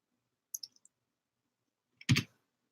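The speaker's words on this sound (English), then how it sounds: "And that's going to be a W on our keyboard." Two quick bursts of computer keyboard key presses during a baseball tabletop game: a light cluster of clicks, then after a pause a single sharper, louder keystroke, close and isolated in a quiet room.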